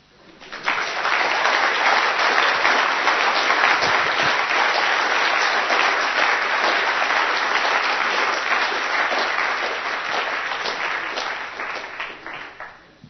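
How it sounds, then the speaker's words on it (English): Sustained applause from the audience at the close of a hacker-congress talk on the Hurd operating system, dense steady clapping that swells quickly, holds strong for about ten seconds, then tapers off. "Now you can clap."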